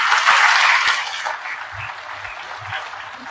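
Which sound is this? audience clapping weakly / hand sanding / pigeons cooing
audience clapping weakly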